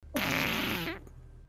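A single drawn-out fart, loud and close, with a rough buzzing tone that lasts nearly a second before trailing off into quiet room noise.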